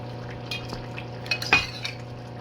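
A spoon stirs potatoes into curry chicken in a pot, giving a few soft clinks and one sharper metallic knock against the rim over a steady low hum, close and sparse with no talking.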